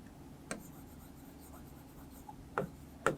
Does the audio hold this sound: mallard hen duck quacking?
no